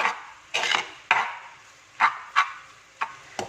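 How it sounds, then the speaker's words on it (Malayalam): Spice powders are sautéed in oil for a Nadan chicken curry: a spatula gives about seven close, distinct scraping strokes against the pan, with a quiet sizzle between them and no talking. "അപ്പോൾ ഈ പൊടികളുടെയൊക്കെ പച്ചമണം മാറുന്നത് വരെ നന്നായിട്ട് അങ്ങ് വഴറ്റി കൊടുക്കണം കേട്ടോ."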